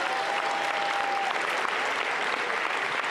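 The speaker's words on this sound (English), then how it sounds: "Let's have a huge round of applause for all the teams competing here at the Arkansas Regional." A large crowd claps steadily and densely for the teams competing at the Arkansas Regional robotics tournament, an unbroken wash of applause filling a big indoor venue, with no voices on top.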